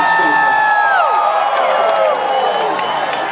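A concert crowd at the 2013 Azalea Festival in Wilmington, North Carolina, cheers loudly and steadily, with whoops and shouts over a continuous roar. A singer's voice carries over the noise.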